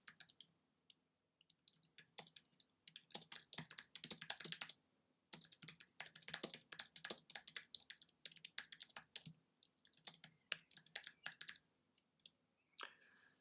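Someone types on a computer keyboard in quick bursts of close, crisp key clicks, with short pauses between runs and no talking.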